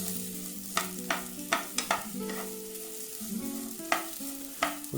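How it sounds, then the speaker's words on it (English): Chopped onion stirred into rice toasting in a pot, a low sizzle punctuated by a series of distinct scraping and tapping strokes from the spoon, over faint background music. "I go ahead and add some chopped onion into the pot. Let that start sweating down. Go ahead and mix that in."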